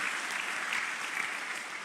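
Church congregation clapping during a service, a steady, moderately loud wash of applause throughout.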